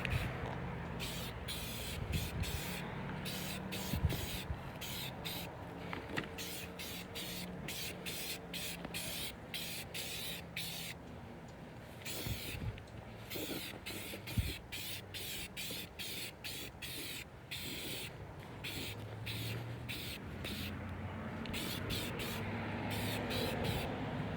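A spray can lays down paint and primer on an RC truck body in a long series of hissing bursts, each cut by brief pauses, close and steady with no talking.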